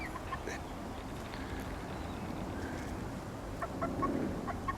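Free-ranging urban backyard chickens, scattered soft clucks and murmurs at moderate distance over steady outdoor background noise, a slightly louder flurry of clucking near the end.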